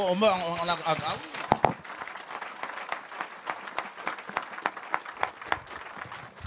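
A church congregation breaks into applause, with a voice calling out over the start before a sustained wash of clapping from many hands fills the room at moderate distance.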